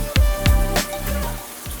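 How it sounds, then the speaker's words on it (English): A hotel shower at a Days Inn in Niagara Falls runs with water hissing steadily at close range, with a few low thumps near the start. "Okay, you can see water is on."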